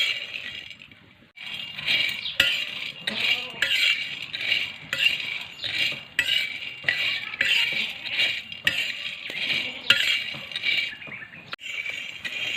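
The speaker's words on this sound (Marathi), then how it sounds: "असे हलवून आपल्याला फुटाणे चांगले खरपूस भाजून घ्यायचे आहेत" Chickpeas dry-roasting in a pan over a village wood-fired stove are stirred steadily, giving close, repeated scraping and rattling clinks in an uneven rhythm with no talking.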